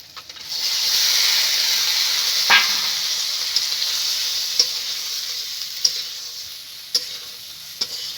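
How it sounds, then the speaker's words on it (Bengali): Fried pointed gourds go into a turmeric spice paste and sizzle steadily in the pan, a continuous hiss with a few sharp spatula taps and clicks spaced through it, close and without talk. "এবারে ভেজে রাখা পটলগুলো দিয়ে দেবো"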